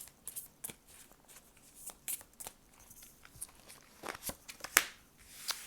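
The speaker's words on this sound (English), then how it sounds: "I'm going to go ahead and shuffle, put these up here" Tarot cards being shuffled close up, a series of soft riffling, snapping bursts with short pauses between them, no voices.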